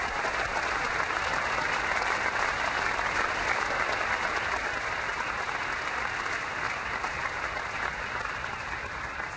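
Large audience at a Macworld presentation applauding, sustained loud continuous clapping filling the hall for several seconds.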